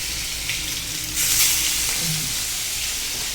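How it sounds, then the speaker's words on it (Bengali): Fish frying in a pan, a loud, steady close sizzle and hiss that swells briefly partway through, with no voices. "প্রথমে মাছটা ভালো করে ফ্রাই করব"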